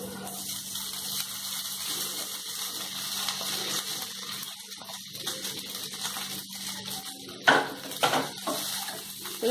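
Soft, intermittent scraping as dry flattened rice is stirred with fried onions around a pan, with a sharper clatter near the end; no one speaks.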